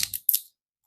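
Cinnamon sticks are snapped by hand while making homemade garam masala, two quick dry cracks close up, then silence.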